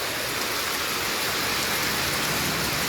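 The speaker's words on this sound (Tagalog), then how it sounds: "Grabe ang lakas ng ulan." Heavy rain pours down steadily, a dense, even hiss close at hand that fills the short stretch alone with no voices.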